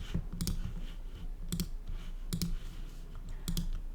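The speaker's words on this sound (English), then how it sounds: "you can just keep clicking it as many times as you want to" A computer mouse clicks in short quick pairs, four double-clicks spaced about a second apart, close and crisp against a quiet room hum.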